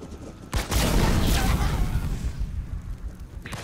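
Enemy infantry gunfire in Halo Wars 2: a sudden, loud, dense burst of rapid shots and booms erupts after a brief quiet moment, then rattles on steadily before easing slightly, with a sharp crack near the end.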